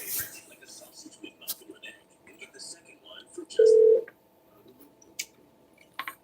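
A single short telephone keypad tone sounds in the middle of a phone call to the Fort Worth Police Department, a clear beep set against quiet line noise and faint background chatter.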